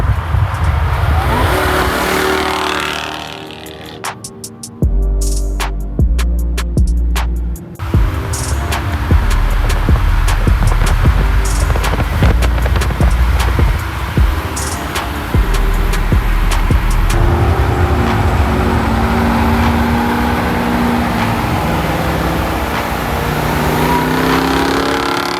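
Engines of a Mercedes C63, an Audi S3 and a Hennessy SRT Jeep drone and rev while driving, a loud sustained roar with bursts of acceleration, shifts and passing engine swells, no talking.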